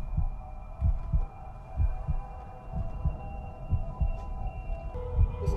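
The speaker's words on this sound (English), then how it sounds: "he just had to listen to some heartbeats" Throbbing heartbeat from the Daredevil TV series, a steady run of low, paired thuds about once per second over a constant background hum, close and loud with no talking.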